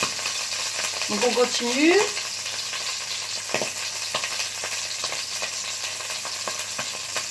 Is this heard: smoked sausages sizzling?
yes